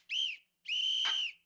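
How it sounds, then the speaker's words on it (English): Two short, clean whistle tones from a game-development sound effect library, a brief toot followed by a longer sustained blast, loud and isolated against silence. "Whistles."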